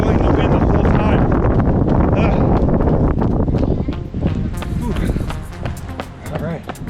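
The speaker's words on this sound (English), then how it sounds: "this wind is real bad" Strong gusty wind buffeting the microphone during an outdoor winter run, a loud rushing roar that eases slightly toward the end, with a runner speaking over it.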